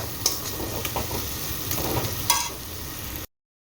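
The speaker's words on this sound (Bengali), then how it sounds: "এখানে মাছের মশলা কষা চলছে" Fish curry spice paste fries in a pan, giving a low steady sizzle broken by a few sharp utensil clinks and stirring scrapes before it cuts off abruptly.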